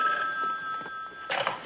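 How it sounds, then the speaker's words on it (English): A telephone bell rings in an indoor scene from a 1970s-style TV drama: a steady electronic ringing tone held across the clip, with faint rustling underneath and a brief clatter near the end. "Why didn't you tell me that was Lee Richards on the phone"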